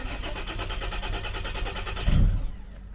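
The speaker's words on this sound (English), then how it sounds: "So we're going to have a go at starting the car this morning" A diesel car being cranked on a cold morning on about half a tank of alpine diesel: a rhythmic starter churn for two seconds, a brief rough surge of the engine, then it dies away.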